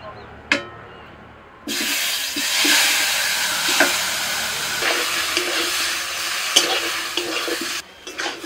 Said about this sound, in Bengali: একদম হালকা আঁচে আস্তে আস্তে করে আমি এটা 5 মিনিট কষিয়ে নেব